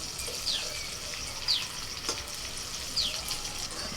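Pea kebabs deep-frying in hot oil, a soft, even sizzle close by with a few faint bubbly crackles and occasional light clicks, no voices.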